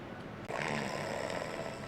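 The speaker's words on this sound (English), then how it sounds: "Snores louder." A person snores during a spoken-word story episode: one drawn-out, rasping snore with a sharp catch at its start, fairly quiet and heard alone without talk.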